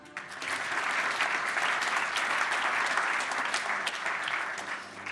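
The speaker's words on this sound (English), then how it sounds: "So please, once again, give him a round of applause." A hall audience at the Men's EHF EURO 2028 Qualifiers Draw applauds performer Buba Spingo, with a sustained, even round of clapping that swells quickly and holds for several seconds.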